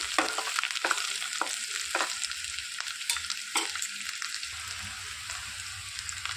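Curry leaves and ginger garlic paste frying in hot oil, a steady sizzle broken by repeated sharp scraping strokes of a stirring spoon, close and alone with no talk.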